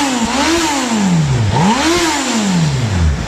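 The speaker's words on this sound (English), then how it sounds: "There's no doubt it's an impressive sounding bike." A Suzuki B-King motorcycle engine revs loudly through its exhausts, close by, rising and falling in two strong sweeping blips over a steady roar, with no voices.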